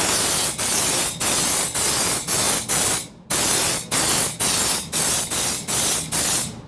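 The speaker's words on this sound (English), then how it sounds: "You'll want to spray in several different directions, from the sides, front to rear," Repeated hissing bursts of aerosol undercoating sprayed onto a vehicle's underside, each lasting about half a second to a second, with brief pauses between them, loud and close.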